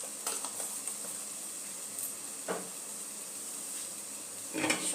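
A pan of spices for egg and potato curry, with Kashmiri chilli powder and salt added, sizzles in a steady low hiss while a utensil stirs with a few soft scrapes and taps.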